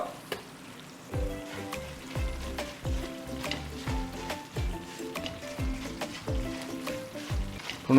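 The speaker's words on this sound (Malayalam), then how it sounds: "മസാല അത്യാവശ്യം ഒന്ന് മൂത്ത് വന്നിട്ടുണ്ട്." Spice masala for apple pickle fries in a pan with a constant sizzle, while a spoon scrapes and knocks against the vessel in irregular rhythmic strokes, close and without talk.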